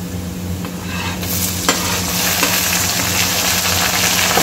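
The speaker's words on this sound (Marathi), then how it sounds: "छान परतून घ्यायचं। आणि याला छान सॉफ्ट होऊ द्यायचं आहे आपल्याला टमाटरला।" Onions and tomatoes sautéing in a hot pan for spicy vermicelli, a steady loud sizzle with stirring scrapes that grows fuller partway through, with no one talking.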